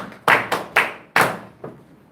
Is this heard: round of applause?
yes